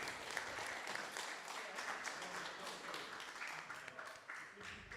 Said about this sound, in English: So please, a last applause for both entries